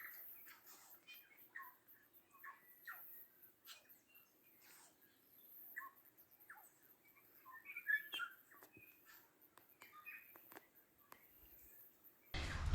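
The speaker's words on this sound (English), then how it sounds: "I'm just going to try and record the audio of these birds," Tui and bellbird song drifts from trees in a quiet bush setting: scattered whistles, chirps and warbling phrases at moderate distance, spaced irregularly over soft ambient background.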